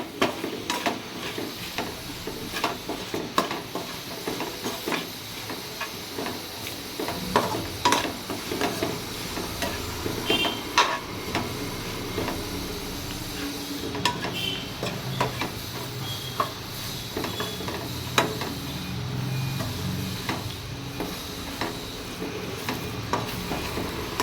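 Spice powder frying in oil in a pan, a steady close sizzle under continuous scraping stir strokes that keep an uneven rhythm throughout, with no voices.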